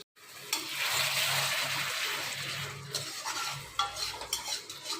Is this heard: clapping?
no